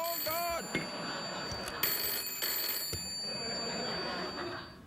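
A telephone on a late-night talk show set rings with a short electronic trill near the start, then low studio ambience continues.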